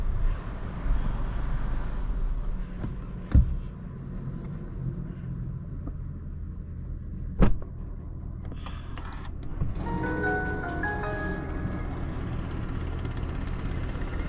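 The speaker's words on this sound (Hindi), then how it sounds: "गाड़ी रोक के मैं स्विच ऑफ करके और गाड़ी से उतरूँगा" A Hyundai Creta N-Line with a manual gearbox idles with a low steady rumble inside the cabin, two sharp clunks marking the stop and switch-off, after which electronic chimes and beeps sound over the quieter hum.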